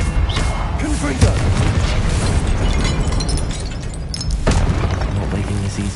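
Confringo spell explosions in the video game Hogwarts Legacy, loud fiery bursts and pops over a dense, busy combat din with a few sharper hits.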